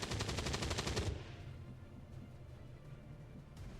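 Rapid automatic gunfire in the XCOM 2 video game, a loud, dense burst of rattling shots lasting about a second, then cutting off to a quiet background hum.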